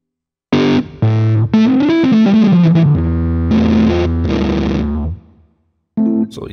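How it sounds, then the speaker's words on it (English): Rhodes electric piano played through a HeadRush Gigboard pedal set to fuzz, loud distorted chords and a short sliding phrase ringing close and dry, then a pause and one more chord. "It's a little fuzz."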